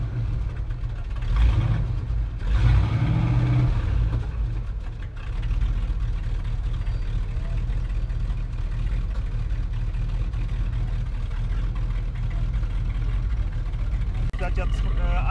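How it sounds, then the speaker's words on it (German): A classic American car at a US car meet in Cuxhaven, fitted with dual exhaust, starting up and settling into a steady, deep engine rumble, with people talking nearby. "der Besitzer startet das Fahrzeug."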